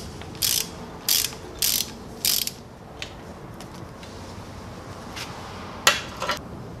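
A ratchet with a 10mm socket turns on fuel line fittings of a Pontiac Fiero 3800: four short, crisp ratcheting bursts in a steady rhythm, then faint clicks and one last burst, close and alone.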